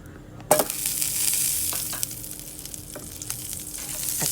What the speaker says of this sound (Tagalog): At kailangan natin yung tunawin yung butter sa mantika.